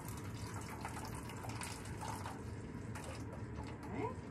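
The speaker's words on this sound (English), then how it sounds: "And we're gonna pour it into our empty bottle." Hydrogen peroxide, half a cup, poured into an empty plastic bottle for an elephant toothpaste experiment; a steady, continuous liquid splashing and gurgling runs close and moderately loud throughout.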